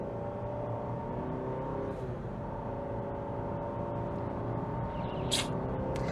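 Cadillac CT5 with a 2-liter inline-4 and 10-speed automatic accelerating, a steady droning engine note heard from inside the car, moderately quiet, with faint clicks near the end.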